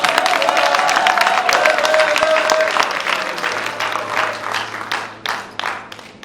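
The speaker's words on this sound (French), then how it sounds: "Est-ce qu'on peut applaudir encore pour lui?" Audience at a film premiere in Yaoundé applauds steadily and loudly, the clapping thinning into separate individual claps toward the end, with a faint hum underneath.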